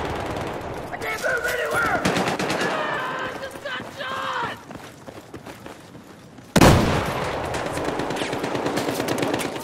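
Gunfire rattles through a Battlefield 4 match in bursts and scattered shots, with voices talking over the early part, then a sudden loud close blast followed by dense, continuous shooting.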